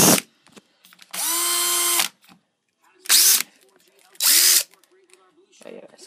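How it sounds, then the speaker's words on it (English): A cordless drill drilling a hole whirs in three separate bursts, each rising and winding down, with quiet gaps and faint handling noise between them. "I'm just gonna drill a hole right in here."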